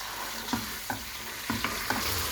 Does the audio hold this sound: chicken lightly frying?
yes